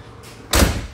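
A car door on an old car in Kraków slams shut once, a single loud, sharp thud following a brief rustle of handling.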